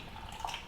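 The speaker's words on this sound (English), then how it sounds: "this water here from our technology, the Kangen water. And I'm just going to pour a bit in here" Kangen water pours briefly into a container, a soft trickling splash with a couple of light drips, faint and close with no talk.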